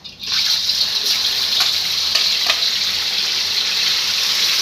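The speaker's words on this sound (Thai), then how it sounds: "มาจ้าพี่น้องจ้าน้ำมันของแม่น้องวุ้นกระรอนได้ที่แล้วเราก็จะใส่ซี่โครงหมูที่เราหมักไว้ลงไปเลยจ้า" Marinated pork ribs hit hot frying oil for Thai garlic fried ribs. A sudden loud, close hiss bursts in and then holds as a steady, roaring sizzle.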